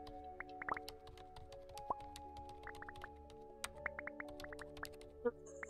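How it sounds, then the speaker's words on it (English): Droplets fall in a video game, a scatter of small, close plinks and drips over a faint steady tonal hum, irregular and quiet. "Water!"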